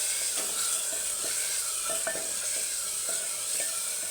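Spices, coriander powder, chilli powder and salt sautéing with ginger garlic paste in a clay pot for biryani, a continuous sizzle broken by a few light stirring knocks.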